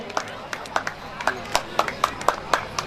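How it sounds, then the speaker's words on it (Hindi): Applause at a Srimad Bhagwat Katha religious gathering, a brisk run of rhythmic claps from a crowd, steady and moderately loud, with a voice over it. "जोरदार तालियां"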